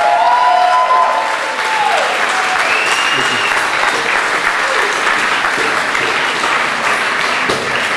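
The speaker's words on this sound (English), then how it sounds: "a big round of applause for Workmans for hosting us tonight" A large crowd applauds steadily, a dense wash of clapping that holds at full strength throughout.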